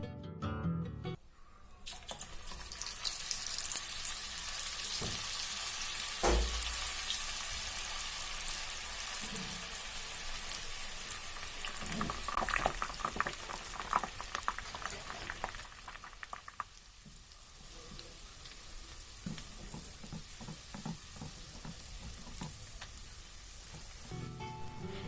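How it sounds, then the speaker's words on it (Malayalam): Potato murukku snacks deep fry in hot oil, giving a loud, continuous bubbling sizzle with scattered crackles and spits that ease slightly toward the end. "ഇത് നല്ലൊരു ഗോൾഡൻ ബ്രൗൺ കളർ ആവുന്നത് വരെ നല്ലപോലെ ഒന്ന് ഡീപ്പ് ഫ്രൈ ചെയ്തെടുക്കാം"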